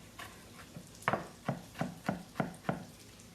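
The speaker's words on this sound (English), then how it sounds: "I'm just going to chop my garlic" A kitchen knife chopping garlic on a board, a run of about eight crisp, evenly spaced knocks speeding into a steady rhythm, close and fairly quiet with no talking.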